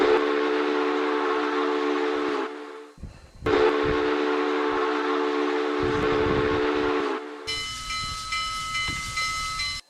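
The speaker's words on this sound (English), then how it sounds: "the FEF whistle is actually sound like this" Two long blasts of a deep, chorded Union Pacific FEF steam locomotive whistle in a video game, separated by a short gap, followed by a higher, brighter whistle tone over hissing steam.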